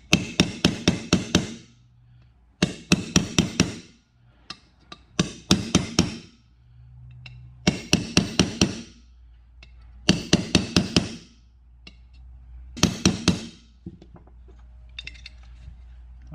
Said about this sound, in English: I'm going to hit lots of times with a tiny little hammer.